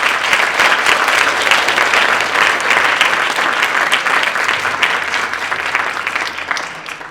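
Sustained, dense applause from an audience after an evening talk on human trafficking fills the whole stretch at a steady, loud level with no break.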